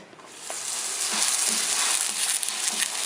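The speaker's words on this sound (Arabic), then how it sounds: "بعد ما سخنت لنا المقله ديالنا نديرو فيها شويه ديال الزيت نديرو المسمن ديالنا يطيب" Moroccan msemen flatbread frying in a little hot oil in a pan, a steady close sizzle that swells slightly after the first half second and holds loud and even throughout, with no voices.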